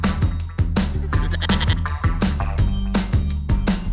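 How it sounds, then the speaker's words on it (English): A goat bleats over upbeat music with a steady rhythmic beat, the animal call close and fairly loud, no talking. "G is for goat."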